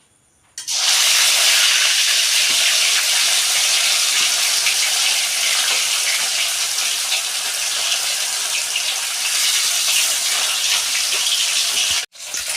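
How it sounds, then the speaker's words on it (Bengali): Pieces of katla fish fry in hot oil with a loud, steady sizzle and hiss. It starts abruptly, holds for about eleven seconds and cuts off briefly near the end. Nobody talks over it. "দেখুন আমার মাছগুলো লাল লাল করে ভেজে নিচ্ছি, একদম লাল লাল করে ভেজে নেবো।"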